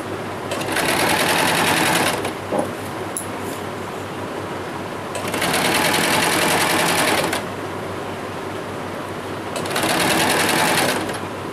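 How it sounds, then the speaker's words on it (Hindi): A sewing machine stitches net fabric for a small dress in three long, steady bursts of fast whirring. Each burst runs about two seconds, with quieter pauses in between. "कंप्लीट एंड तक इसकी भी सिलाई लगा लेंगे।"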